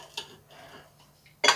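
Cutlery cuts into a vegetarian merguez on a plate, giving two sharp clinks of metal on china with quiet scraping between them.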